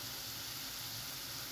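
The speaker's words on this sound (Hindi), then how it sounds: "मसाले हमारे भून रहे हैं, खुशबू उठ रही है" Masala spices fry in a pan with a steady, faint sizzle and hiss, heard alone for a brief moment.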